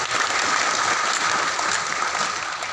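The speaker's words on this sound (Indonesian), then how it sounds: "kita beri aplaus dulu" Audience applause fills a church thanksgiving mass, a dense, steady clapping from a crowd that holds at an even level for a few seconds.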